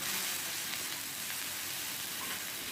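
A spoonful of ginger garlic paste fries in hot oil in a pan for tawa chicken, giving a steady, even sizzle that stays constant and fairly soft throughout, with no voices over it.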